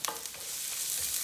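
Onions frying in a pan with red wine splashed in, a soft steady sizzle with a few stirring clatters at the start, close and continuous, no voices.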